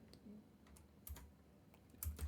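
Python commands typed on a computer keyboard, a handful of faint scattered keystrokes with a couple of soft low knocks, quiet and close with no speech.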